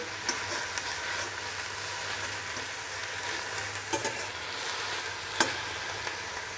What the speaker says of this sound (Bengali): আর এটাকে আমি একদম এরকমভাবে এটাকে শুকনো খোলায় ভেজে নেব, যাতে সিদ্ধ হয়ে যায় পুরো।